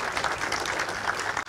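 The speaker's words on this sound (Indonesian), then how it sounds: "mari kita kembali berikan tepuk tangan yang meriah kepada para panelis" An audience at a panel discussion session applauding the panelists, a brief burst of many hands clapping at moderate loudness that cuts off abruptly at the end.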